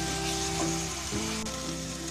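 Ginger garlic paste and onions fry in a pan with a steady, close, continuous sizzle that stays even throughout, with no talking.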